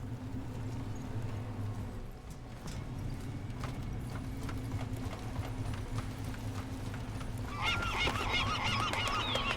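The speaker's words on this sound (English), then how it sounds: "Hello, seagulls" Gull-like honking calls from seagulls in the video game Deus Ex: Mankind Divided, repeated over a steady low ambient hum, growing louder and more frequent near the end.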